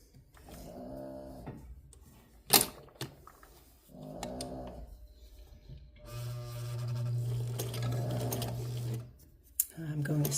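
A Hamilton sewing machine with a stuck selector knob stitches slowly, its low, even motor drone and soft needle ticking heard up close, with a person talking around it.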